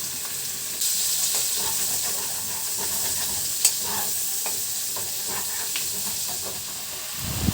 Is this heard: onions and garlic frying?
yes